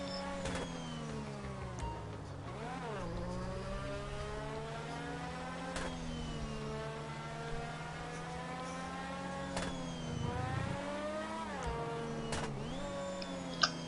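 A race car accelerating through its gears on the Daytona road course in GTA 5, engine whine rising in pitch, dropping at each shift and climbing again repeatedly, loud and continuous.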